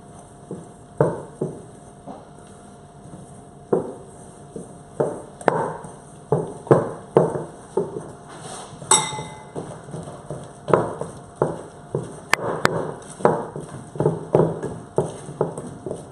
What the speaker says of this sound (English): I'm just going to add in about a teaspoonful of vanilla extract. There we go. Pop that in. And just stir it all together.